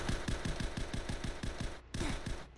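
Rapid gunfire in a Roblox Squid Game 2 Mingle match, a fast regular burst of shots, a brief gap, then another burst, loud and close with no talking.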